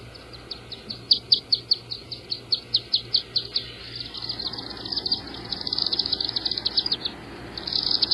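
Chittery calls of busy birds nesting in chimneys, quick repeated high chirps in rapid bursts that run together into a continuous twittering, moderately close.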